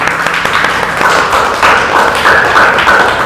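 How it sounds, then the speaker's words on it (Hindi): Loud audience applause at a student interview, dense rapid clapping that swells after a second and stays strong to the end, with no talking over it. "एक बार जोरदार इनके पूरे घर के लिए तालियां।"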